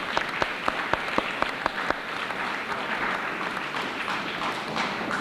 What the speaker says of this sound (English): Let's have a nice round of applause for those who participated in the Beatrice Thornton Art Exhibit.